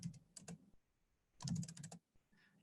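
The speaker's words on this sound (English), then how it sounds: "You can notice that as I'm typing" Commands are typed on a computer keyboard in two quick bursts of soft, close key clicks separated by a brief pause, with no talking.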